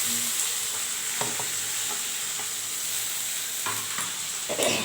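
Chopped broad beans (avarakkai) with onion and garlic sauté in a hot pan, giving a steady close sizzle broken by a few scraping stirs.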